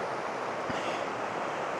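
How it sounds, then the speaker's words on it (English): Roaring Creek flowing over mossy rocks at a modest flow: a steady, even rush of water close by, with no voices. "This is Roaring Creek, and the water flow is okay."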